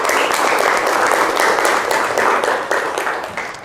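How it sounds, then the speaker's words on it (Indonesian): A classroom of students claps for a classmate, a steady, fairly loud burst of applause with audible individual hand claps that fades slightly near the end. "Beri tepuk tangan dulu untuk Amrina Rosada"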